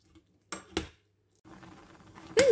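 A spoon stirring an apple mixture in a pot on the stove, with two quick metallic clinks, a short scraping stretch and another clatter at the end, close and fairly quiet.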